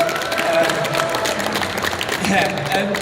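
Applause breaks out from the audience at a Comic Con Brussels Q&A panel, a dense patter of clapping mixed with crowd murmur and a voice speaking over it.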